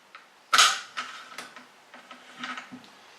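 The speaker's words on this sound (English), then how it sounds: "And take the bolt out." A rifle bolt is worked and drawn out of the action after the silencer is removed, giving one sharp metallic clack followed by several quieter clicks and slides, close and alone.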